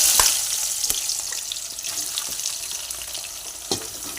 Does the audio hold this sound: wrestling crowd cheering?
no